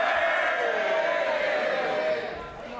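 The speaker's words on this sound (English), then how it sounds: "They're cheering and laughing because they love this." MPs in the House of Commons chamber cheer and laugh as a loud, sustained crowd roar of many voices, easing slightly toward the end.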